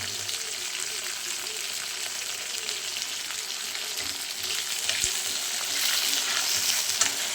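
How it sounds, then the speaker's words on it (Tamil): Garlic and curry leaves sautéing in a pan with small green turkey berries, a bright continuous sizzle with scraping stirs that grows slightly louder toward the end. "இதை நல்லா வதக்கிட்டு இப்போ போட்டுருவேன் பூண்டு."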